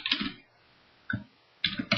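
Keys clattering on a computer keyboard as code is entered into a Python interpreter, in short bursts of close, crisp clicks separated by pauses.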